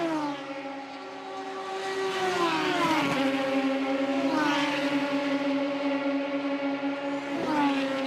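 Race cars circle the Canadian Tire Motorsport Park track during the Emzone RCC race, engines droning steadily at mid-distance with pitch sweeps as cars pass and shift, loud and continuous with no talk.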